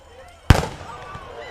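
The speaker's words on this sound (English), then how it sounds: "And the cannon goes off again." A cannon fired at a high school football game, one sharp, loud blast with a short echoing decay over a faint crowd murmur.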